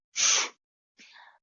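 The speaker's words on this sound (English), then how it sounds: "If I sneeze once, I usually sneeze 3 or 4 times" A single sharp human sneeze, loud and close, followed after a brief pause by a softer breathy exhale or gasp.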